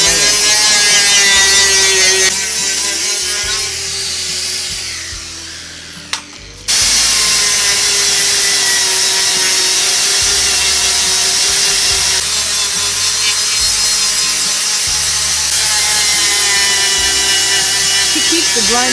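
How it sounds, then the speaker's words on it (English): A grinder cutting through the thin roof panels of an old Daewoo car gives a loud, continuous abrasive whine. It dips briefly partway through, then resumes at full strength. "She keeps the grinder constantly moving, preventing concentrated heat from warping the thin roof panels."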